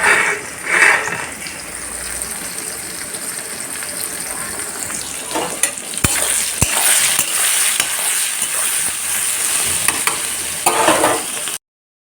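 Onions frying in a pan: a steady, close sizzle with bursts of spattering and a couple of sharp clanks of a utensil against the pan, no speech.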